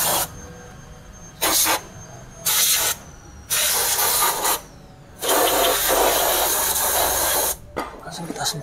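An aerosol can of engine flushing oil cleaner hisses onto a car engine in about five separate bursts, short ones first, then a long sustained spray, loud and close against a quieter background hum.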